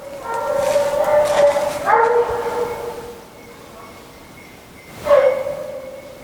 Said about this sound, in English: Bells and dogs.